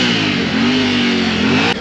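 A Honda CBR600 motorcycle engine held at a loud, sustained rev at a bike meet, a close, buzzing mechanical tone that stays fairly steady before cutting off abruptly.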